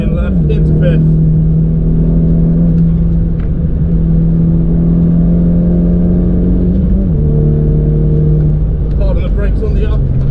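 A Volkswagen Scirocco R engine drones loudly at high revs on the Castle Combe race track, holding a steady pitch, dipping briefly at a gear change into fifth, then climbing again, with a voice speaking over it.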